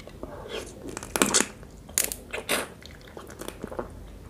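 Pickled crab with juicy roe and spicy dipping sauce eaten close to the mic, with crunchy bites of shell, wet chewing and smacking in uneven bursts.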